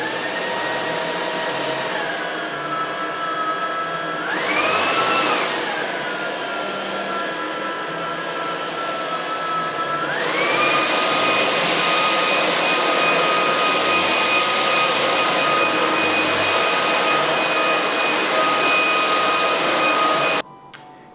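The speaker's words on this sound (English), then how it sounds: "I'm going to vacuum this carpet." An Ultenic FS1 cordless vacuum cleaner runs steadily over carpet, a close, continuous whine that shifts pitch a couple of times as the suction changes, then cuts off abruptly at the end.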